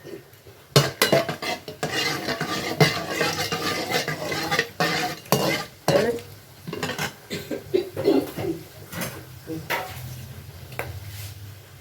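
Whole spices (cinnamon pieces, cardamom pods and cloves) fry in about 200 grams of hot oil for mixed chicken biryani, with steady sizzling broken by repeated close clinks and scrapes of a utensil against the pot.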